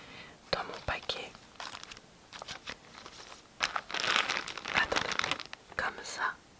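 Stickers from a sticker pack are handled up close, with crinkly rustling, peeling and tapping sounds in uneven bursts under soft whispering.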